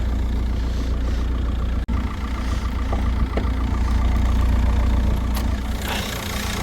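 A Volkswagen Passat engine idles steadily with a low, even mechanical hum and a smooth, close rumble throughout. One brief click interrupts it partway through, and no one speaks.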